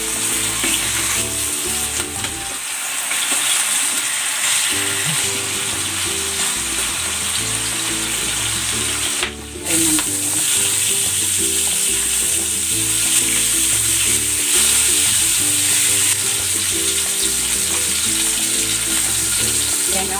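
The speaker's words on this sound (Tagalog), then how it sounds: "I-sear muna natin itong ating yempo." Pork yempo searing in a pan of hot cooking oil, with steady loud sizzling and frying crackle throughout, broken by brief stirring movements and one short dip near the middle.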